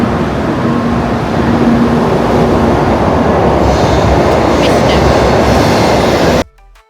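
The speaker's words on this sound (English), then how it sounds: "We took the Shinkansen from Osaka to Kyoto, reaching 280 km an hour at our fastest point." Steady loud roar of a Shinkansen bullet train running at speed between Osaka and Kyoto, heard from inside as a dense continuous rumble with faint rail noise, cutting off abruptly near the end.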